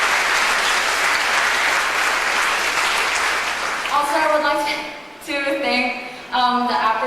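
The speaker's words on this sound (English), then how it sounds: "Please give yourself a round of applause." Sustained applause from a conference audience at a model UN closing ceremony, loud and steady, then a speaker's voice cuts in over the fading clapping.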